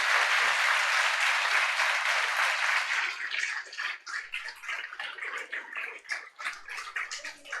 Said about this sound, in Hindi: चलिए जोरदार तालियां बजाइए जितना।